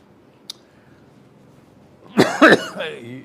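After a brief click, a person coughs sharply two or three times close to the microphone, followed by a short throaty exhale.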